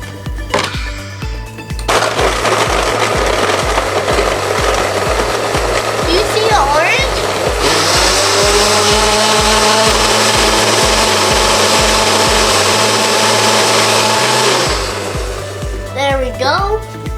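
A blender mixes a smoothie with orange juice, holding a loud, steady whirring motor whine for about thirteen seconds before winding down, with faint rhythmic thumps beneath.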